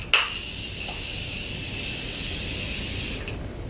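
Morphe setting spray misting in one long continuous burst of about three seconds, a steady close hiss that begins with a short sharp onset and then cuts off.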